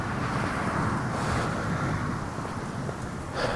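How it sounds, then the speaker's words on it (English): Strong gusting wind roars continuously outdoors, a loud, broad rushing with buffeting against the microphone, rising slightly in a gust near the end, with no voices. "The wind actually blew my hood off. That's how windy it is today."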